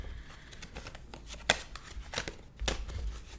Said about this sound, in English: me shuffle them